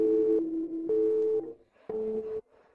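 A telephone busy tone after a hang-up beeps three times in even, steady pulses with short gaps between, close and clear, with nothing else heard.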